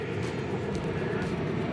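A passenger airplane flying toward Incheon Airport in Seoul gives a steady, continuous engine roar, a dense low rumble with airy hiss above, holding at an even level throughout with no talking.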